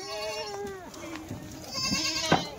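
Dairy goats bleat at close range in a few wavering calls over about three seconds, with people talking nearby.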